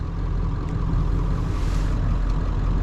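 A Ford F250 pickup truck engine idling steadily, a loud low rumble that holds even throughout with no voices.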